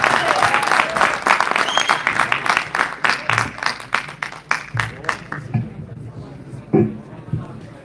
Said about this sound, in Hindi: जोरदार तालियों से वरुण आनंद जी का स्वागत कीजिए